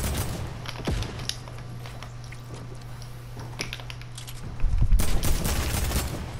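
Video game gunfire crackles in scattered shots over a low steady hum, then a louder burst of rapid firing erupts near the end.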